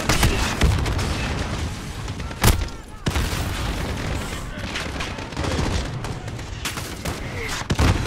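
Grenade blast in Call of Duty: Modern Warfare amid a dense firefight, with booming impacts and sharp bursts of gunfire layered over continuous battle noise, one heavier thump standing out near the middle.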